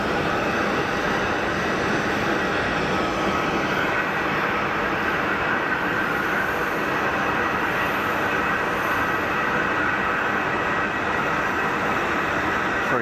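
Airbus A220 jet engines spooling during the takeoff roll at Geneva Airport, a steady loud broadband roar with a high whine heard from inside the cabin throughout.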